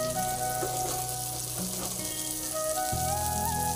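Fish sizzles steadily in hot oil in a pan, a close, continuous crackling fry with low hum and faint clinks, no talking.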